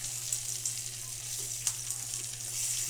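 Six sliced pork chops sizzle on a cheap electric grill, a soft, steady frying hiss with a few faint pops and crackles, fairly quiet and close.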